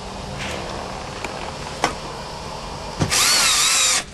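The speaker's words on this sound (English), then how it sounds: "I'm just going to put a couple screws in it to hold it in place." Cordless power drill driving screws into an Airstream Avenue van during a solar panel install, a couple of faint clicks and thumps followed by one loud close whirring burst at the end.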